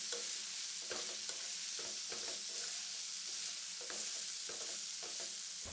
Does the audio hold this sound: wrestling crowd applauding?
no